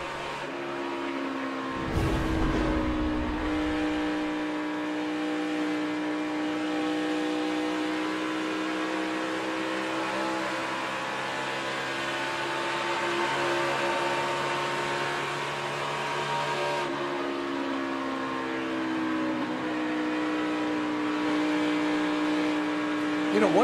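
A steady, loud NASCAR Nationwide Series race car engine with a tapered spacer drones throughout with layered harmonic tones, shifting pitch slightly partway through, with a brief low thump near the start.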